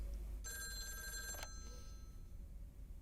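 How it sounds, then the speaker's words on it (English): A telephone bell rings once for an incoming call, a bright ringing burst of about a second that stops abruptly, fairly faint, followed by quiet. "Oh, we got a phone call."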